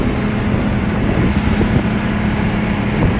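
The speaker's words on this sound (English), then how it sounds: "the background sound of a massive outboard motor" A massive outboard motor drives a boat, its low steady drone running continuously beneath wind buffeting the microphone, loud and close, with no talking.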